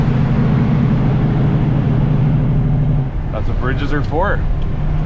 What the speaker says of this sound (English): Blast the Jake under this bridge